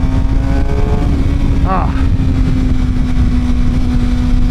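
A Suzuki GSX-R 750 sport motorcycle's engine holds a loud, steady, high-revving drone close by while the bike is ridden at speed.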